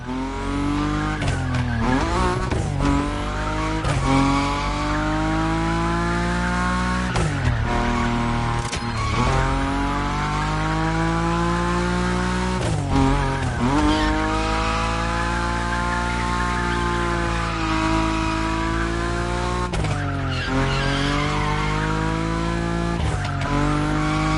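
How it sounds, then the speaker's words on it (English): A powerful Nissan Nismo in a video game slides at high speed, its engine holding a steady, loud, high-revving drone with pitch sweeping up and down through repeated shifts and dips for the whole stretch, with no talk. "Your Nismo is powerful enough to slide along on its own when you're at high speed"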